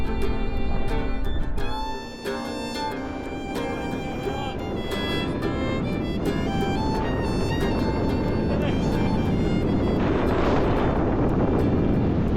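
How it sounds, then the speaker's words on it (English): Wind blowing hard across a mountain top in Snowdonia, a loud, gusty roar battering the microphone throughout, with a person talking over it. "It's so windy"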